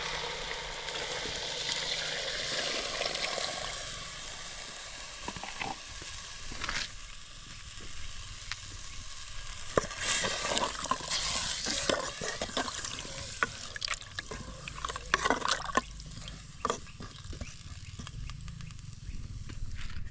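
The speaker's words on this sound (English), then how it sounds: "So right now I'm going to put some little water inside our meal" Water pours into a pot of cooking macaroni and matoke, with sloshing, bubbling and scattered utensil knocks as the mixture is stirred, steady and close.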